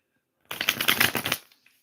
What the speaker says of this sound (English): Let me shuffle some cards for Margaret.